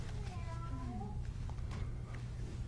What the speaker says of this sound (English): the ring on my phone is the cat